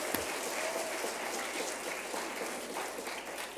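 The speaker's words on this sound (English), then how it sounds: "So let's give yourselves a round of applause." Mock trial students and coaches at an award ceremony clap in a steady, dense round of applause, moderately distant and fairly quiet, lasting a few seconds.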